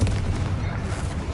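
Confringo fire-blast spell from Hogwarts Legacy, a deep booming impact with a rumbling low-end tail, brief and loud, with no talk over it.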